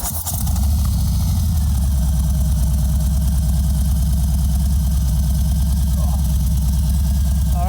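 A Harley-Davidson motorcycle engine starts and settles into a steady, loud, close idle with a throbbing low rumble.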